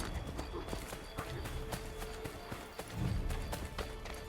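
A horse gallops steadily in Assassin's Creed 3, its quick hoof clip-clops running as a continuous rhythm close by, with brief heavier thuds near the end.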